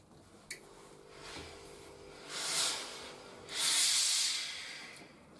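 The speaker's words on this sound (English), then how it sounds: "Oops, watch the steam." A clothes iron releases two soft bursts of steam hiss in a home ironing session, the second longer and fuller, with quiet background noise between.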